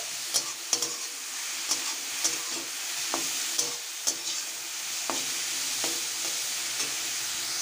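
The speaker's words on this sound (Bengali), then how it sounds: "যে গাজরগুলিকে গ্রেট করে রেখেছিলাম দিয়ে দেব এবারে খুব ভালোভাবে নেড়ে দেব" Grated carrots sizzle softly in a pan for carrot laddu as a spoon stirs them, intermittent scrapes and taps over a quiet, steady frying hiss, no talking.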